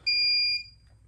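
An automatic folding wheelchair gives a single clear electronic beep, a steady high tone lasting about half a second, with quiet room background and no talk.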